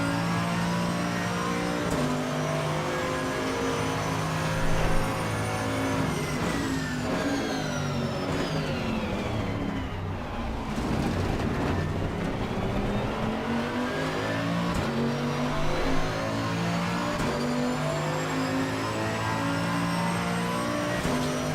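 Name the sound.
GT2 race car engine revving, in-car view, video game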